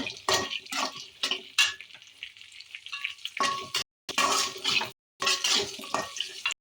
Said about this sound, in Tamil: லைட்டாக கடலைப்பருப்பு போட்டு கொஞ்சம் கிளறி விடலாம்